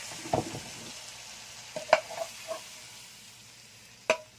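Ingredients for a chicken and spinach dish hit a frying pan with a few short sizzling bursts and stirring scrapes, spaced across a quiet kitchen background.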